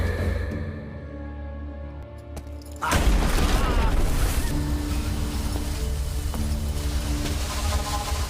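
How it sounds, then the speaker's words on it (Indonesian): An explosion from a bomb assembled inside a ball thrown in a dramatized film scene: a quiet stretch, then a sudden heavy boom that rolls into a long, loud rumbling roar lasting to the end. "Arun melemparkan bola yang rupanya telah dirakit dengan beberapa komponen bom oleh Madu."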